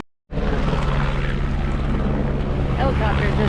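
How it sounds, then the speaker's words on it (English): A helicopter lands at Boca Chica, a loud, steady drone of engine and rotor that starts abruptly and holds close and continuous to the end. "Helicopter just landed here in Boca Chica."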